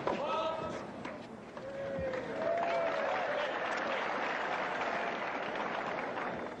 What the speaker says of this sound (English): They're clapping for the service linesman who makes the call.